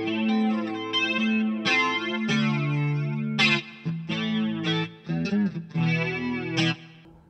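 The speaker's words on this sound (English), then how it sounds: "We're gonna dial the flange back a little bit." Electric guitar through a TC Electronic Stereo Chorus+ pedal, playing sustained chords and notes drenched in a swirling chorus and flanger effect, loud and alone with no voices.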